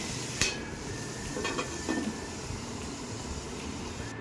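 Cauliflower curry with fried spices is stirred in a pan, giving low, continuous scraping and a faint sizzle, with a few soft utensil knocks and no talk.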